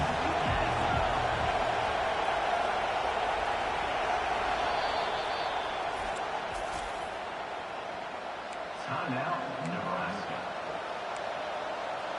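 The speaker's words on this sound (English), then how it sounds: "Decibels rising as the crowd gets behind this defense on 3rd down" Football stadium crowd roaring steadily for the home defense on a third-down play, a dense, continuous wash of cheering and noise that holds loud throughout with a brief swell near the end.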